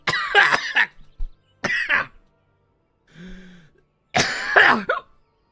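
A person coughs after water goes down the wrong way: a harsh burst of several coughs, another short cough, a faint throat sound, then a final strong coughing fit, close and loud with quiet gaps between.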